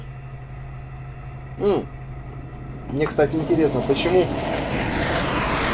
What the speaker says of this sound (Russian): Смотри, там самолет летит.